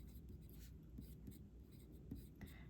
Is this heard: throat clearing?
no